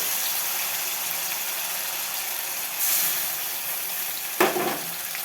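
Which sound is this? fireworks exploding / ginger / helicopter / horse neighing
ginger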